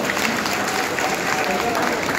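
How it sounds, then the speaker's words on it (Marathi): Audience applause welcoming a young MLA at a press event in Amravati, a steady wash of clapping throughout with a crowd murmuring underneath. "मी विनंती करतो अंबानगरीच्या सगळ्यांनी टाळ्या वाजवून त्यांचं त्या ठिकाणी स्वागत करा"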